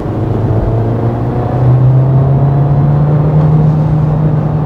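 Steady, moderately loud hum of a Volkswagen Jetta with a 1.5-litre engine while driving, a low continuous drone with faint road rumble that rises slightly partway through and stays even, with no talk over it.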